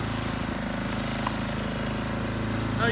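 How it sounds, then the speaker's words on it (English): An Ariens snowblower engine runs steadily at close range, a loud continuous mid-pitched drone with no talk over it. "Wow, this thing throws some snow. I've never had a snowblower that threw snow that well."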